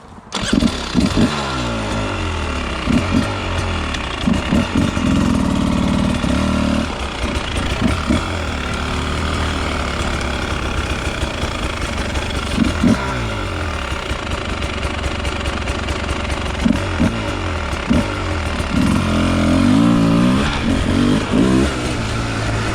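A 2024 Beta 300RR Race Edition dual-plug dirt bike is ridden, its engine revving up and dropping back repeatedly in a loud, buzzing, close-up roar without speech.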